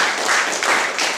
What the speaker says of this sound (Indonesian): Tepuk tangan panjang bagi Tuhan